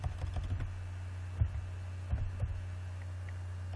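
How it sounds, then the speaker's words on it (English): Computer keyboard being typed on while entering a program for a school computer science practical, with scattered clicks and a few louder key strikes over a steady low electrical hum. "So just to type this program"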